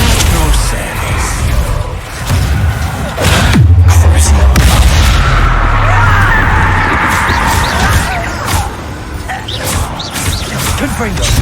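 Explosive Confringo spell blasts in the Hogwarts Legacy video game, heavy booms and crashing combat noise filling the clip at high volume, with a voice speaking over the action.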